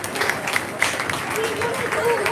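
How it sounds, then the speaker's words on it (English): An audience at a junior fair swine show claps for the class winners, a moderate round of applause with a voice talking over it, fairly close. "Let's give our 2 class winners a big round of applause here"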